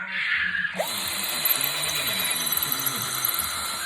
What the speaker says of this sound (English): And you're just going to ream the hole.